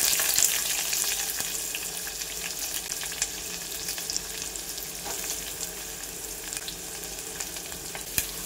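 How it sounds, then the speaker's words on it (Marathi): Onion frying with curry leaves and chilli in a pan, a continuous soft sizzle with light stirring scrapes and small taps, no talking. "तर हा कांदा आता सोनेरी रंगावर येऊपर्यंत परतून घ्यायचा आहे"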